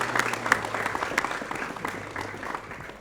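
A school audience of SMP Negeri 21 Palembang claps for teachers, a crowd of hands giving brisk, moderately loud applause with a few louder individual claps, lasting about three seconds.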